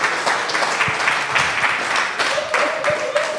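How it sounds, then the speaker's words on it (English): An audience applauds a guest at a live comedy show, with dense, steady clapping filling the room from start to finish and scattered louder claps standing out near the end. "Can everyone give Fumi a round of applause?"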